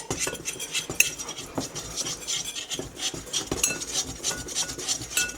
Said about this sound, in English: we're just going to whisk all this together in the bowl